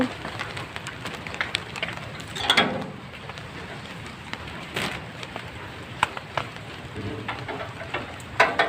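Steady rain patters on a surface, with occasional sharper taps and clicks mixed into the continuous wash.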